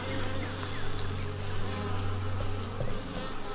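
Honey bees swarm-buzz inside an opened beehive while a super is being added, a steady dense drone with shifting tonal hums close by, continuous and fairly loud with no speech.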